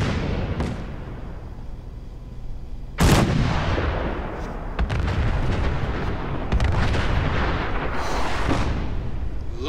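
Artillery fire in Fallout 4, a steady barrage of heavy booming shots and explosions, one sharp loud blast early on followed by repeated rolling detonations, with no talking.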